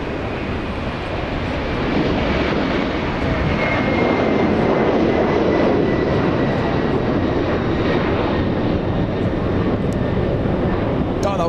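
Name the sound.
Atlas cargo plane departing LAX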